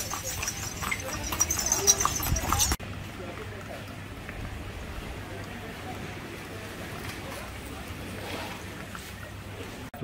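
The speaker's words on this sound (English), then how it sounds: "pony taxi." A pony taxi's hooves clip-clop at a steady trot on an Indonesian island near Bali, the rhythmic clopping carrying on throughout under outdoor ambience and some speech.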